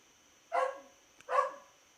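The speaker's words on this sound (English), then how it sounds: "my dog. She's barking at me." A dog barks twice at close range, two short, sharp barks about a second apart against a quiet background with a faint steady hum.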